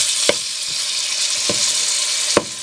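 Ground beef browning in a pan for pink soup gives a steady, bright sizzle throughout, broken by a few sharp clicks and scrapes of a utensil stirring the meat.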